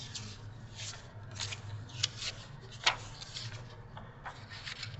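Scissors snip through paper being cut for foldables in short, quiet rustling strokes with a few sharper clicks, close by and faint, with no talking.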